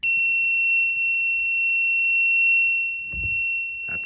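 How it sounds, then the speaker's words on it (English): A small electronic buzzer wired into a Raspberry Pi 4 traffic-light circuit emits a loud, continuous high-pitched tone like a fire alarm, steady throughout with some handling bumps near the end. "that's the buzzer"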